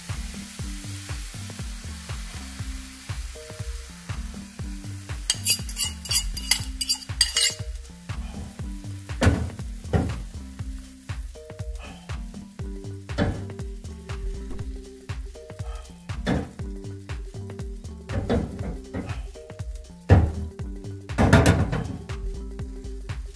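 An egg mixture for a broccoli torta sizzles in a frying pan, a soft steady crackle, while a utensil repeatedly scrapes and clinks against the pan, with a few sharper metallic taps scattered throughout.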